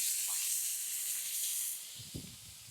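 Bacon sizzles on a pancake griddle with a loud, bright, steady hiss that fades slightly toward the end, where a few soft knocks and scrapes sound up close.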